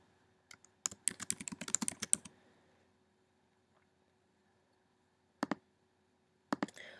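Typing on a computer keyboard while filling in an electronic insurance application form, a quick close burst of clicking keystrokes followed by two short isolated flurries, otherwise quiet.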